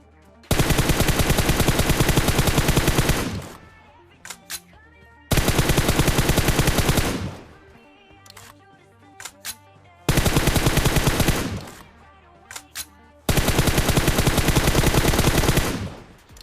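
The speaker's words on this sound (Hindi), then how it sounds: "मैं खिड़कियों पर बहुत ही तगड़ा प्री फायर इसलिए दे रहा था" Automatic gunfire in the PUBG Mobile video game sounds in four long, loud sustained bursts of rapid shots, each lasting about three seconds, with a few isolated single shots in the gaps between them.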